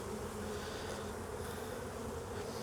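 Dense, steady buzzing of many honey bees crowding a hive frame, close and continuous with no pauses.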